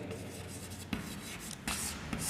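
Pen scratching across paper by hand, a quiet continuous rubbing with a few firmer strokes and bursts near the end, close and alone without talk.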